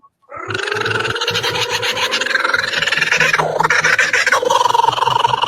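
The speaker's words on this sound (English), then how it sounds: "Kookaburra." A loud, continuous cackling chorus of kookaburra calls, rapid and raucous, building in intensity, close and unbroken.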